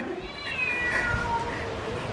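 A cat in a cat cafe gives a drawn-out, wavering meow close by, rising and bending in pitch over a quiet room.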